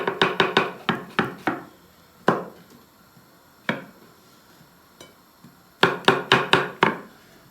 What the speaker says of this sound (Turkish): mantarlarımı şu şekilde doğruyorum